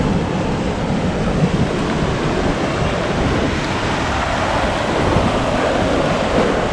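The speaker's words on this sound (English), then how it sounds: "Have a look at this wild ocean." Violent surf pounds a beach in Canada, a loud, continuous roar of crashing waves mixed with heavy wind buffeting the microphone, with no voices.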